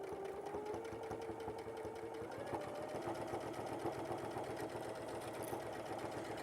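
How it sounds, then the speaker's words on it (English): A sewing machine stitches along fabric with a steady, fast mechanical rattle that runs unbroken and fairly loud, with a faint hum underneath and no talking. "we're just going to sew along"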